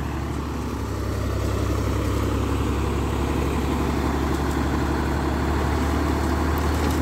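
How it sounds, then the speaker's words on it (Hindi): A Fiat 480 tractor engine idles close by, a steady low diesel rumble with a fast, even chug that holds throughout with no talking. "चार सौ अस्सी ट्रैक्टर है फीएट का"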